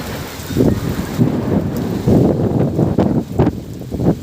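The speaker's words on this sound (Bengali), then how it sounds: "ঝড় হচ্ছে, বৃষ্টি কম ঝড় বেশি হচ্ছে" Strong storm wind with light rain, heard as loud, gusting rushes that buffet the microphone in uneven waves over a few seconds; no speech.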